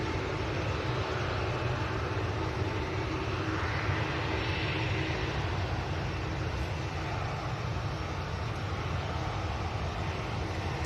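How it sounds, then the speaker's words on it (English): An EasyJet airliner arriving at Manchester Airport, its jet engines a broad steady roar that holds throughout with a slight rising sweep in the middle, heard from a distance outdoors with no talk. "I'll actually just follow this EasyJet in"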